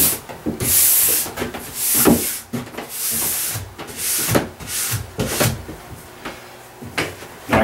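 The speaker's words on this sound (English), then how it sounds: "Grab our horsehair brush and clean that structure out of the ski." A horsehair brush scrubs the structure of a ski base in quick, repeated strokes, each a close, hissing, scratchy swish, some bunched together and others separated by short pauses.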